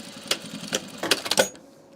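A home sewing machine tacks down a seam on a dress with several short, sharp mechanical bursts over a faint steady hum, close and moderately loud before it quiets.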